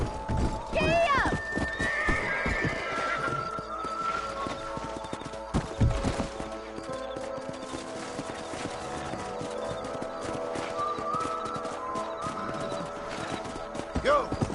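Horse hooves clip-clop in a steady gallop with a sharp neigh near the start and a mounted ride continuing throughout in the Red Dead video game, with music and occasional game dialogue over the riding.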